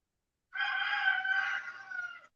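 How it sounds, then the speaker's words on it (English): A rooster crows once, a single drawn-out call lasting about two seconds, clear and moderately close, with quiet before and after. "I don't know if you can hear my rooster or not"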